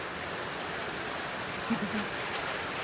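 Steady rain falls in Shiroli, Kolhapur, with an even hiss throughout, a soft low sound briefly rising near the end.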